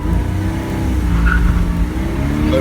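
A 2000 Porsche Boxster accelerates hard with a little wheel spin, giving a steady, loud engine roar and faint tire chirp up close.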